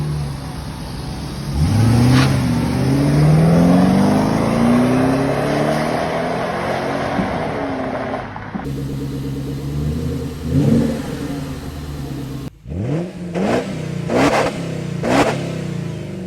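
A 1997 Mercedes R129 SL with a 5-liter V8 revs up and pulls away, the engine rising loudly, then cruising with a steady drone and further throttle blips in separate cuts.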